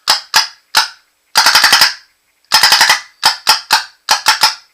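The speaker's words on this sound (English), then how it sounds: "Fire a clearing shot." Proto Matrix Rail 2011 paintball marker, ABS off and set to 16 dwell, firing a rapid string of sharp, loud pops in bursts: single shots, a quick flurry of six, then groups of three, close and with no talk.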